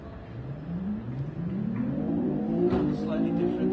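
Synthesized V12 engine note from an electric Lotus Evora shown at the 2011 Geneva Motor Show, a rising revving tone that climbs in pitch over a few seconds, with people talking over it.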